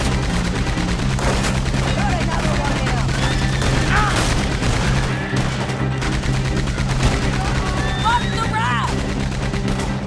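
Gunfire in the Red Dead Redemption 2 game crackles in bursts through a dense, continuous mix of game music and effects, with character voices heard over it.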